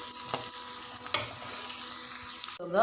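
Carrots and other vegetables for semolina upma sizzle in a pan while a spoon stirs them, with short scraping knocks over a steady frying hiss.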